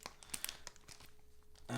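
A plastic packaging wrapper torn open by hand along its seam, a short burst of crinkling and ripping crackles, faint and close, ending in a louder rustle.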